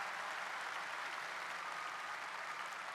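A round of applause from an assembly audience at a talk, steady and fairly faint, heard alone for a few seconds.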